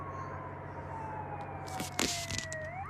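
Faint wailing ambulance siren in an Indonesian bus simulator game, rising and falling tones over a low engine rumble, with a few clicks and thumps near the end.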